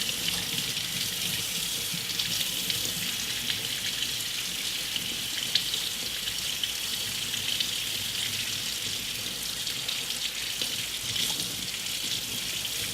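Tap water pours steadily into a sink being filled to bathe a puppy, a constant close hiss and splash with no break and no talking.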